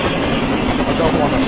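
A New Zealand JA Class steam locomotive in Train Simulator rumbles along at a loud, steady, close level for a brief stretch, a dense mechanical roar with a voice speaking over it.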